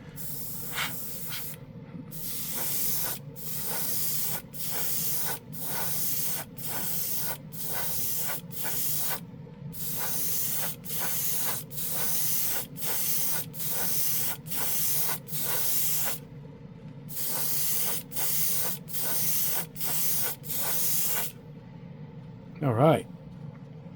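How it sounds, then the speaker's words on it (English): A budget airbrush with a real wood handle sprays paint in a long series of short hissing bursts separated by brief pauses, close and steady, with a brief voice near the end. "All right, it sprays good."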